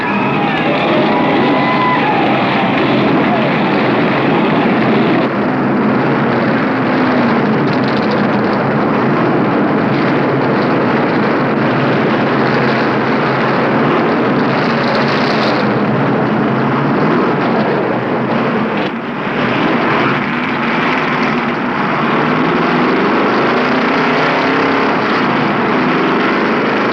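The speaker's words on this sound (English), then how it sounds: "Driver, twist your engine." Forty stock car engines roar at the 1969 American 500 at Rockingham, a thick, continuous wall of loud engine noise that holds steady throughout, with crowd murmur mixed in.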